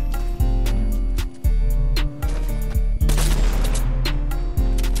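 Gunfire in the Fortnite battle royale game: loud, repeated shots in irregular bursts over a steady in-game background, with a denser stretch of rapid fire near the middle.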